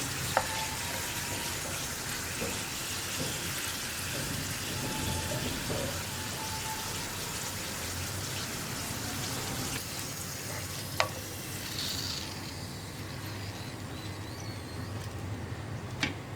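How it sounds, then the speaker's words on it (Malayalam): Potato pieces deep frying in oil, a constant rain-like crackling sizzle throughout with occasional faint clinks, steady and moderately quiet, heard close with no one speaking. "അപ്പോൾ ആദ്യം ഇട്ട പീസുകളൊക്കെ ഒന്ന് ഫ്രൈ ആയി തുടങ്ങുന്നുണ്ട്."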